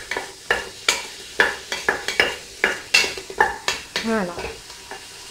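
Garlic and mushrooms in a pan for a lamb tajine with olives: repeated sharp scraping stir strokes against the pan over a light sizzle, with a brief voice near the end.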